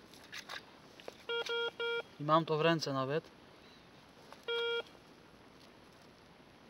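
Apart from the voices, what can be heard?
metal detector signal beeping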